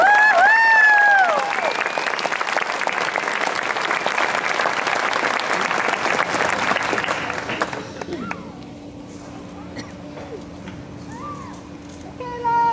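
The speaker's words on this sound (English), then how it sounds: "Won't you give them a huge round of applause?" A Christmas concert audience at a voice academy applauds the soloists in a loud, dense burst for about seven seconds, with a sung note at the start, then the clapping stops abruptly, leaving quiet room sound and faint voices.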